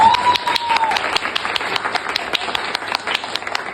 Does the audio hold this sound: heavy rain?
no